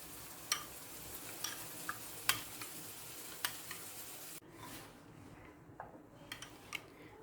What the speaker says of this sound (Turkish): Güzelce yoğurdumuzu karıştırarak hazırlıyorum